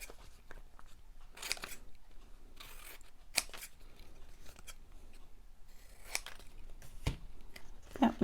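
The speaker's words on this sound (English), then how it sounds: "don't cut it too close until it dries a bit" Scissors snipping through paper ephemera for a handmade folio, a quiet string of separate close cuts and crisp snaps with paper rustling between them, no talk.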